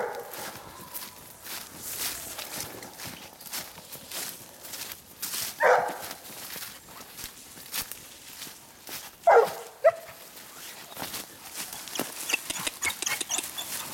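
Hunting dog Cannelle, a bitch working a scent, gives tongue in two short outbursts of barking amid rustling footsteps outdoors, with quieter movement noise between the bursts.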